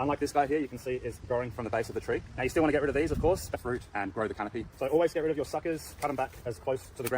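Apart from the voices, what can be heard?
No everyday noise stands out behind the speech.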